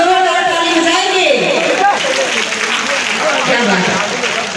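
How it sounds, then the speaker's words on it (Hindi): An audience at an award ceremony breaks into loud applause, dense clapping that fills the space, while an amplified voice speaks over it at the start. "पीछे वाले लोग जोरदार ताली बजाएंगे"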